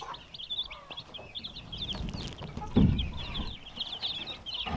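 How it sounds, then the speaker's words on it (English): Many small baby chicks peep in a constant high chorus inside a hanging brooder box, with a low cluck and some rustling nearby. "here we have a whole lot of baby chicks."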